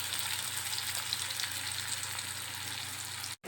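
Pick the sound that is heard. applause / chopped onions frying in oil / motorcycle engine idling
chopped onions frying in oil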